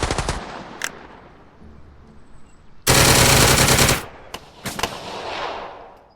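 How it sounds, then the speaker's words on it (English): Machine gun fire in the video game Second Front comes as sharp bursts of gunshots. A long, loud volley in the middle is bracketed by shorter clattering bursts before and after, with a faint background hum between them. "The Americans take notice of the incoming fire and reply in kind."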